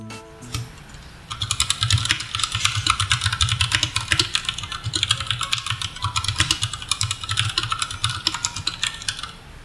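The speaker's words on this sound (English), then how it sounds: "I'm going to give you a short typing passage on my RK61 with Gatorin Brown switches." Rapid, continuous typing on an RK61 mechanical keyboard with Gateron Brown switches, muted, tactile keystrokes, close and steady, and a faint engine hum underneath.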